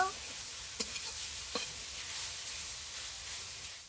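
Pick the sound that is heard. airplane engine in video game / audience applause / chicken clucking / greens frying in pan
greens frying in pan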